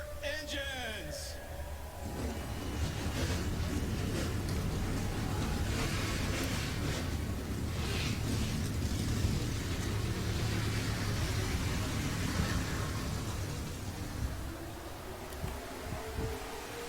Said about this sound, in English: Drivers, start your engines!